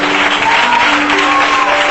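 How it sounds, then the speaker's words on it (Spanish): A church congregation applauds loudly and continuously, a dense wash of clapping that fills the space for the full two seconds. "¡Aplaude fuerte a Dios, por favor!"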